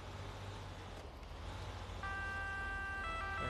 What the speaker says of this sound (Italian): Accendi lampeggianti e sirene